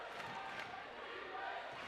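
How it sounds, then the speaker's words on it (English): Crowd at a varsity girls high school basketball game chanting defense, a steady dense roar of many voices filling the gym, close and continuous with no pauses. "Crowd still in it. They're chanting the defense chants."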